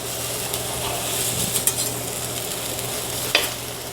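Garlic cloves and halved tomatoes dry-roasting in a pan for a peanut salsa taquera, a steady close sizzle and hiss with a few sharp knocks and scrapes as they are moved around.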